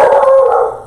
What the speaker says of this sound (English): Someone must be walking their dog.